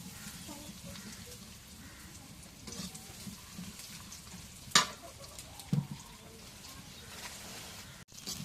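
Chicken gizzard and liver frying in oil in a pan. It gives a faint, steady sizzle throughout, broken by a couple of sharp clinks near the middle.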